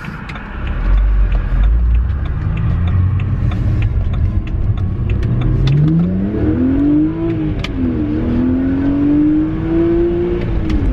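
A stock-exhaust BMW 130i accelerates hard, its engine note climbing steadily in pitch as the exhaust valves open, loud and close throughout with a brief dip before rising again.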